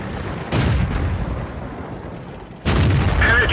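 A StuG tank destroyer's cannon in World of Tanks fires at an enemy Soviet T-34 medium tank, penetrating it and knocking off its track. Two heavy booming shots land a couple of seconds apart, loud and close, with no voices.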